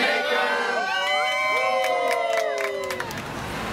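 A crowd of children cheers and whoops at a 12th birthday party, with high, excited shouts layered over a busy babble. The noise is loud and continuous, and it fades slightly toward the end.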